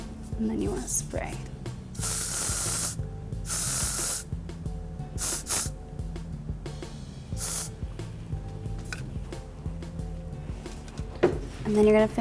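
Repeated short bursts of hairspray hissing from a nearby can, several sprays spaced apart, with soft rustling and handling sounds in between.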